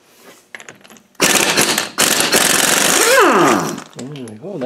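Pneumatic air impact gun removing the mainshaft nut on a Land Rover LT230 transfer gearbox: a loud, close, sustained rapid hammering rattle in two bursts, ending with a rising whine as the tool spins down, with a brief voice.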